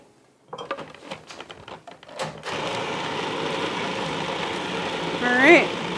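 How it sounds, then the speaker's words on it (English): A food processor whirs through gnocchi dough, a continuous motor drone that starts after a few knocks and scrapes and runs steadily to the end. "when the dough starts picking up like that, the magic of the food processor"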